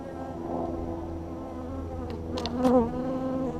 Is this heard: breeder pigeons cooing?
no